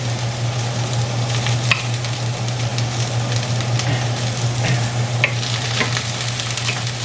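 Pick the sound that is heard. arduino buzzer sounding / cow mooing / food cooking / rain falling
food cooking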